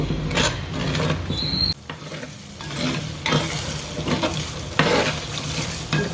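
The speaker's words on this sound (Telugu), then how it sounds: "ఇప్పుడు ఈ నూనెలో బాగా వేగనివ్వాలి. బాగా వేగాలి, రెడ్ కలర్ వచ్చేటట్టు వేగాలి." Masala for crab curry fries in hot oil with a continuous close sizzle, broken by scraping stirs and brief pauses where the crackle dips, and no talking.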